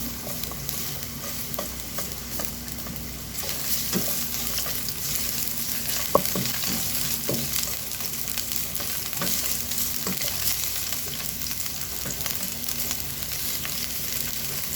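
Ginger and onion sautéing in a hot pan for a moringa pod dish: a steady, close sizzle runs throughout, broken by occasional scrapes and taps of a stirring utensil, with no speech.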